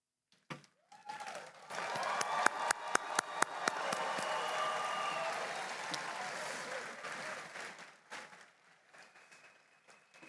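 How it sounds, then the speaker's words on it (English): A commencement ceremony audience rises in a standing ovation, sustained crowd applause swelling for several seconds with a few sharp nearby claps before fading away. "Class of 2025, let's rise and applaud."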